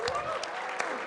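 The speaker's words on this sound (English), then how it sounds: "They're clapping." Brief scattered clapping from an audience during a live DaVinci Resolve Q&A session, a few claps heard with talking over them.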